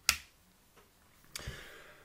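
A VST LAB coffee refractometer lid clicks shut with a sharp, close tick, followed by a second fainter click about a second later in a quiet room.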